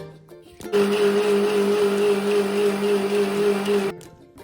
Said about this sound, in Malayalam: ഇനി നമ്മൾ മിക്സിയിൽ നന്നായി അടിച്ചെടുക്കണം.